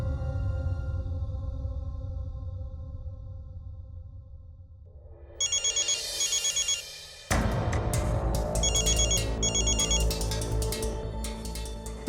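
A telephone rings in a Hindi TV drama scene, with repeated electronic ringing bursts over loud, swelling dramatic background music.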